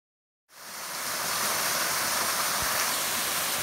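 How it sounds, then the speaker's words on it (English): A small creek waterfall on the Coomera Circuit in Lamington National Park rushes as a steady, dense roar that swells in after a moment of silence and holds evenly, close and continuous. "there's another little waterfall"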